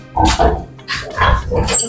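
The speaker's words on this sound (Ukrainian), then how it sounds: "Сьогодні саме ручні свиноматки." Tame breeding sows are driven into a pen, giving loud grunts and squeals in three bursts close by, with noisy scuffling and people's voices mixed in.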